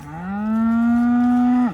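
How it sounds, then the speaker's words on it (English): A single Dexter cow, one of a hungry herd waiting to graze, lets out a loud, clear moo that holds steady for over a second and then drops off sharply at the end. "So cows are obviously hungry and they're waiting to go."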